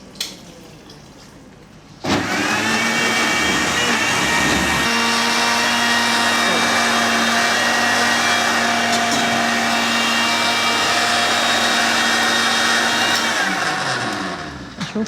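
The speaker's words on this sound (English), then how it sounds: "So I could add the meat stock to blend my onions." A blender whirs loudly and steadily, blending onions with meat stock in a home kitchen while cooking without seasoning cubes. It starts abruptly after a short quiet lead-in and runs at a constant pitch before easing off near the end.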